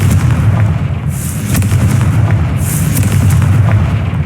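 A Confringo spell explosion in the game Hogwarts Legacy, heard as a loud, dense rumbling blast with crackling bursts over a continuous low roar.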